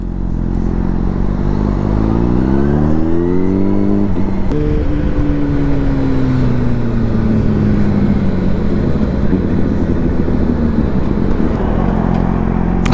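A motorcycle engine drones loudly at speed on a highway, its pitch rising through gear changes under constant rushing wind.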